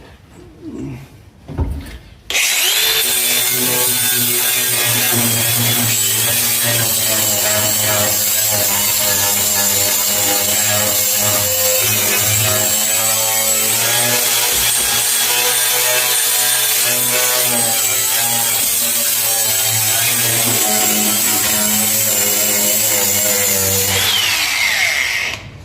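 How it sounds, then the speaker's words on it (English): A power tool sands metal on a 1981 Toyota 4x4 pickup, starting after a brief clatter and then grinding loudly and continuously up close in a steady whine that lasts almost to the end. "I'm going to see if I can get in here before I cut anymore and do a little sanding"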